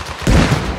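A grenade explodes in Arma Reforger as one deep, heavy boom that rises suddenly and lingers briefly in a low rumble, close and loud.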